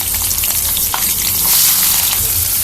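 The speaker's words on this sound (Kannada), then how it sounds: "ಎಣ್ಣೆ ಕಾದ ನಂತರ ಸಾಸಿವೆ, ಜೀರಿಗೆ, ಕಡಲೆಬೇಳೆ, ಉದ್ದಿನಬೇಳೆ, ಗೋಡಂಬಿನ ಆ್ಯಡ್ ಮಾಡ್ಕೊಳ್ಳಿ." Mustard seeds, cumin, chana and urad dal, cashews and green chillies frying in hot oil for upma, producing a loud, dense, continuous crackling sizzle with light stirring underneath.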